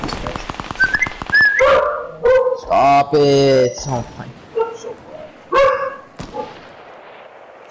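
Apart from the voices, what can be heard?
dog barking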